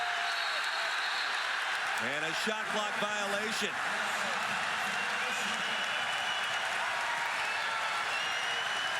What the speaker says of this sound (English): You hear this crowd roar, as they should